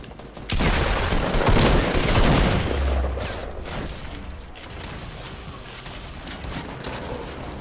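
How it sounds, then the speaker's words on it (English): Grenade launcher fire in Fortnite Battle Royale gameplay, a loud burst of rapid blasts and booms that starts abruptly, then trails into rumbling explosions and mechanical clatter under ongoing game noise. "I got a grenade launcher. Let me shoot at them."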